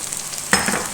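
Food frying in a pan for a mint rice dish, a faint background sizzle that jumps to a louder burst of hissing and stirring about halfway through, then stays crackly to the end.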